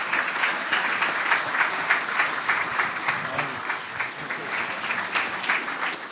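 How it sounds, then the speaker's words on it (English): Diners at an evening dinner event applaud a panel of speakers with sustained, thick clapping from a sizable crowd. A few voices mix faintly into the steady wash of claps. "Let's give a big round of applause for all of our panelists."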